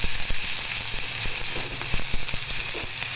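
Onion tossed in a hot frying pan for crispy corn, a loud continuous sizzle with scattered crackles and small pops, close and steady, with no one talking.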